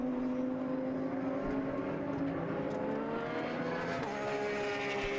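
GT race cars, Ferrari, Audi and Porsche, scream around the Navarra circuit, high engine notes sliding slowly in pitch as they pass and shift, with overlapping cars at steady moderate distance.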